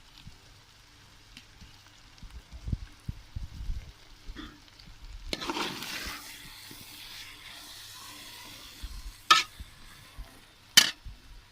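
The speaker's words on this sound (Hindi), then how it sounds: "डाल दिया थोड़ा फ्राई के लिए, अंडे के लिए।" Oil heating in a pan for frying eggs gives a faint, soft sizzle that swells for a few seconds midway, framed by scattered light clinks and taps of utensils. No speech.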